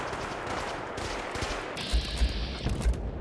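Gunfire in the video game Fallout 4, a few heavy low thumping shots in the second half over a busy, rumbling game soundscape.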